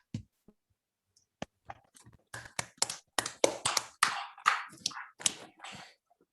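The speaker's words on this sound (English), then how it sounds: "let's give another round of applause to Rafi" A small seminar audience applauds after a mathematics talk: a few isolated claps at first, then clapping builds into a brief, light round before trailing off.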